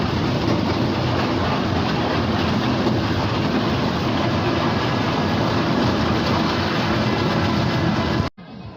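A train rolls steadily along the rails with a continuous loud rumble and faint rhythmic clatter, no voices, cutting off abruptly near the end.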